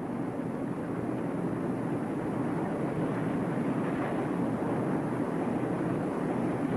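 Four 15,000-horsepower turboprops of a Tupolev Tu-95 Bear bomber driving eight-blade counter-rotating propellers, a steady broadband drone that holds at constant loudness, with wind rush over it and no voices.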